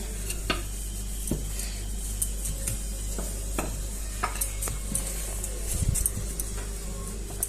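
Thin crepe batter hissing and sizzling in a hot pan as it is spread out, with a steady frying crackle, scattered taps and scrapes of a utensil against the pan, and a louder clatter near the end.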